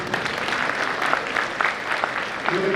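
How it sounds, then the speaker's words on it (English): Audience in a school gathering applauding coaches at an eighth grade parent night, brief bursts of clapping from a moderately sized crowd, fairly close and lively. "Let's give them a round of applause here."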